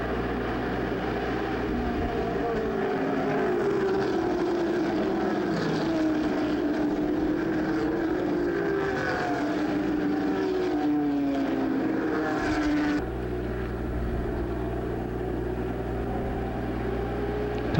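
1986 ARCA stock cars roar away at the start of a race at the Illinois State Fairgrounds. A loud, continuous wall of engine noise with shifting pitch as the cars pass, easing abruptly near the end.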